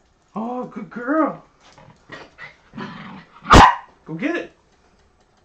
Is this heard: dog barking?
yes